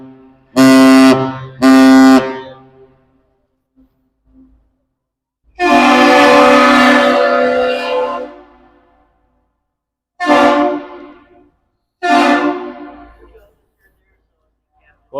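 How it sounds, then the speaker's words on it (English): A 1000-foot lake freighter at the Duluth lift bridge sounds a captain's salute on its horn: one long, deep blast preceded and followed by short ones. The horn is very loud and blares through quiet pauses between blasts. "that was what is called the captain's salute. 1 long, 2 short, horn blasts"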